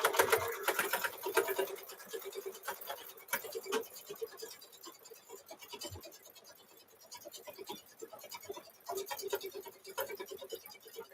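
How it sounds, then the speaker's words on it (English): Embroidery sewing machine running a placement stitch on batting for a mug rug in the hoop, a quick rattling needle patter at moderate level with brief pauses and uneven bursts. "now it's going to run that placement stitch of the batting"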